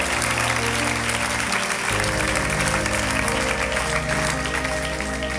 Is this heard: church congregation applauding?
yes